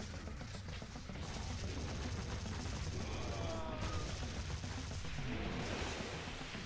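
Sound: gunfire from enemies shooting in the video game Sanctum 2

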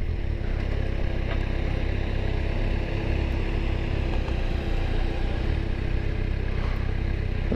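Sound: Kawasaki Versys 1000 motorcycle riding

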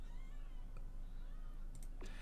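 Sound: cat meowing

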